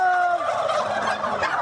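Turkeys gobbling on a turkey farm, a dense, fairly loud chorus of rapid warbling gobbles from several birds, with no talk over it.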